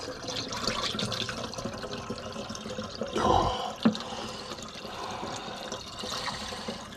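Juice for homemade wine pours into a half-gallon fermentation jug, a continuous close liquid splash and gurgle with a brief louder gush partway through.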